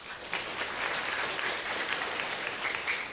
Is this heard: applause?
yes